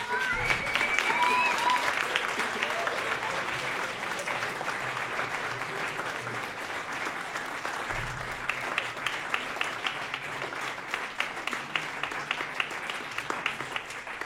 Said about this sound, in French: Je pense qu'on peut encore les applaudir, tous les artistes ici.